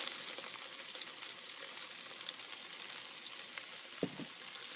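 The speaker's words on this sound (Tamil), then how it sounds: "ஒரு 2-3 நிமிஷம் வெண்டைக்காய் நல்லா இது வதங்கும்." Chopped okra sautéing in a pan for sambar, a faint steady sizzle of frying with small crackles and a brief clink near the end, no talking.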